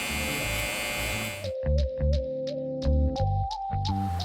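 A Gamma Cyborg hair clipper runs briefly, then stops, then gives a series of short buzzing bursts in irregular rhythm, close by with no talk.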